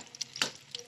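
Crispy chicken donuts fry in hot oil with a steady low sizzle, broken by a couple of brief bursts of crackling and bubbling as pieces are turned, close by and fairly quiet.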